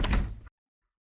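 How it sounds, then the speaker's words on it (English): A door in a radio drama is shut and locked: one loud close thud with a brief rattling latch, then abrupt silence. "Mr. Stewart, why did you lock the door"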